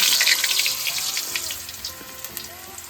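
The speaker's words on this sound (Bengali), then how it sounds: "আচ্ছা আলুগুলো এখন ভেজে নিই।" Potatoes frying in hot oil, a busy crackling sizzle with scattered spits and pops, loudest at the start and easing slightly.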